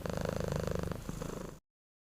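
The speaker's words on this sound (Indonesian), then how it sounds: "Umumnya, kucing mendengkur karena ia merasa nyaman dengan situasi saat itu." A contented domestic cat purrs close up in a steady, rhythmic rumble of quick pulses for about a second and a half before it cuts off.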